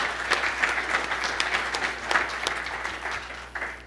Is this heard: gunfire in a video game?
no